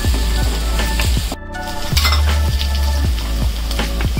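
Spring onions stir-fried over a full flame for vegetable fried rice, a loud steady sizzle with regular rhythmic scrapes and tosses of a spatula in the pan, close up and without talk.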